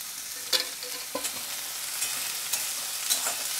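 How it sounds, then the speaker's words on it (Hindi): Onions frying lightly in a little oil for a dried shrimp chutney: a soft, steady sizzle with occasional scrapes and taps of a spoon, close up and with no talking. "तेल डाल के इसे हल्का सा फ्राई करना है हमें"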